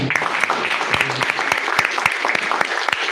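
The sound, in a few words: audience applause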